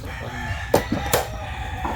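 A rooster crows in short bursts close by, mixed with clucking fowl and outdoor background noise. No one speaks during the crowing.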